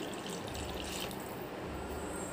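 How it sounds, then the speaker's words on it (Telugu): Water pours into a cooking pot on the stove before vermicelli goes in, a steady close rushing splash that holds evenly throughout. "సో వాటర్ యాడ్ చేశాను కదా"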